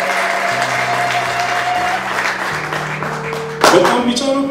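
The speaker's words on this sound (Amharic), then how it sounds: "እልልታና ጭብጨባ ለጌታ ለኢየሱስ" Ululation and clapping at a Christian worship gathering in praise of Jesus, with a crowd applauding continuously and high trilling voices rising over it.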